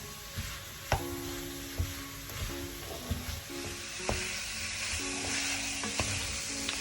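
Spices and tomato concentrate sizzle in a pot for Basque-Hungarian beef stew, a steady close frying hiss punctuated by spoon scrapes and knocks against the pot.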